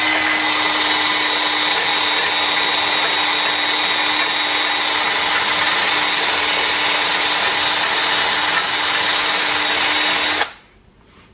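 A drill bit bores into steel during forged knife work, a steady loud whine with a tonal hum holding unbroken for about ten seconds before cutting off abruptly into quiet.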